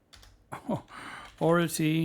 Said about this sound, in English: Oh man, I'm horrible at typing priority